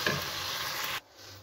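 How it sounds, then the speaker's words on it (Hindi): Garlic, ginger and green chili paste frying in a pan, a steady bright sizzle for about a second that drops abruptly to a much quieter hiss. "तो लहसुन अदरक भी फ्राई हो चुका है"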